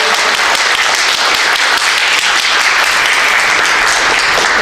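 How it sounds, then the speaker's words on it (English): An audience applauds artists at a Gullah Geechee artwork showcase in Conway, South Carolina, producing steady, dense clapping that holds loud and even throughout without pause. "I love for y'all to give a round of applause to these artists on that side."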